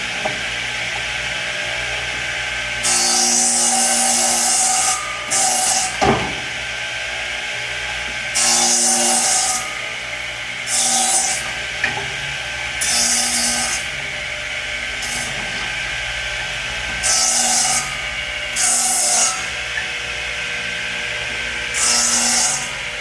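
A radial arm saw cuts a small dado in wood, with repeated bursts of rough, hissing blade-on-wood cutting as the saw is pushed through in passes over a steady motor hum.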